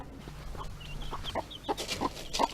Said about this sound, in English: Look at one baby chicken.